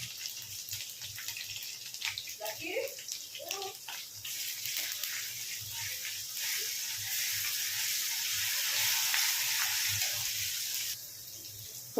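Ginger garlic paste fries with sliced onions in a hot pan, giving a steady hissing sizzle that builds and holds at moderate loudness, with a few scraping stirs near the start and a slight drop near the end.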